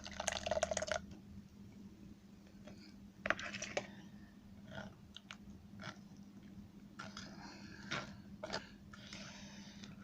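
Alkaline juice is poured through a sieve in a quiet kitchen, giving soft splashes and a few brief drips. A faint steady hum sits underneath.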